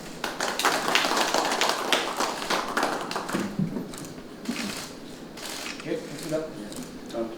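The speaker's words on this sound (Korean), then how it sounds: "박수 부탁합니다." Scattered applause at a political party leadership meeting, moderately loud clapping from a roomful of attendees that thins out over several seconds into a few remaining claps and background murmur.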